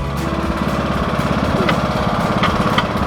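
A ride-on lawn tractor engine runs steadily and loudly throughout, a continuous mid-pitched mechanical drone with a rough, pulsing texture, close by and with no talk over it.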